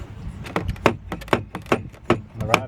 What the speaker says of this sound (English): The rod just popped out.